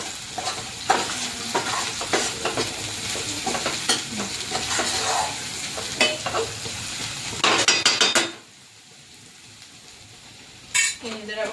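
Samosa filling fries in a little oil with steady sizzling while a spoon scrapes and stirs against the pan in quick repeated strokes, then the sound drops away before a final clink.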